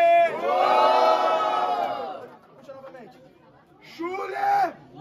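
A crowd at a Brazilian rap battle roars and whoops loudly, dies back to chatter, then swells again, with a voice shouting over it.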